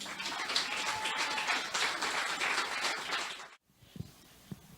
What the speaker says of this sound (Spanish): Bríndele palmas al Señor.